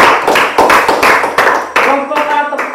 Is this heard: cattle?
no